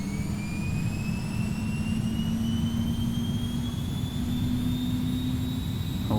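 Jet engines in the X-Plane flight simulator spool up for takeoff, a loud steady whine and roar that holds throughout while a high turbine tone slowly climbs in pitch.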